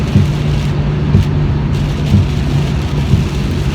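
Steady rain drums on a car moving through traffic, a dense, loud wash with constant low road rumble underneath and no pauses, heard from inside the cabin.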